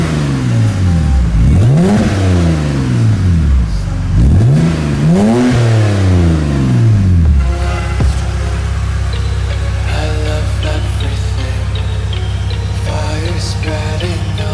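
A BMW E60 with an N52 engine and Supersprint exhaust revs hard twice, rising and falling loudly up close, then settles into a steady deep idle burble.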